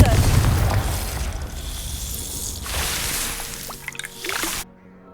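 A Confringo blasting spell in Hogwarts Legacy goes off as a muffled boom, followed by splashy crackling debris and a brighter burst near the end before cutting to silence, with a voice briefly over the start.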